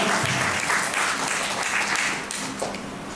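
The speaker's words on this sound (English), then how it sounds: "So special applause for them" An audience at an evening reunion of a 1979 engineering batch applauds a husband and wife who are batchmates, with steady crowd clapping throughout that eases slightly toward the end.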